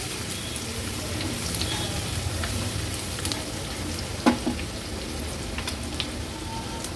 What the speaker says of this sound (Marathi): आपण आलं लसूण क्रश घेतला आहे तुम्ही पेस्ट देखील वापरू शकता तेलावर थोडी परतून घ्यायची आहे